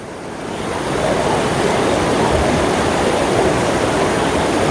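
Floodwater surges down the Sarabanga river toward Vellalapuram lake near Edappadi, a loud, continuous broadband roar that swells in within the first second and then holds steady and close, with no talk.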